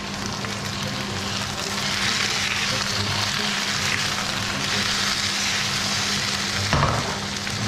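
Six potatoes pan frying in a big, heavy pan give a steady, loud, dense sizzle throughout, with a brief stirring knock near the end and no voices.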